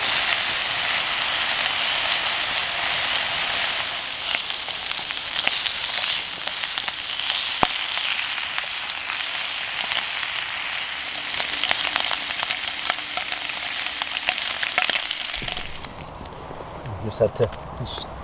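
Home-smoked bacon frying over a campfire in a winter woodland camp, a steady loud sizzle that holds for most of the clip before cutting off into quieter outdoor sounds, with talk faintly over it.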